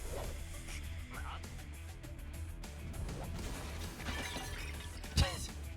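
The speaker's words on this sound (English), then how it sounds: "I really like that stock, like, jar-shattering sound effect that you've heard in a billion video games." A stock glass jar shattering effect from a Fate/Stay Night game, a single sharp crash near the end over soft background music and ambience.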